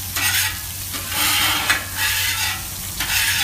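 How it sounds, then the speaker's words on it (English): A metal spatula scraping and cleaning a flat griddle grill, loud close rasping strokes repeating in a steady rhythm over a sizzling background. "we're gonna watch Tom clean the grill"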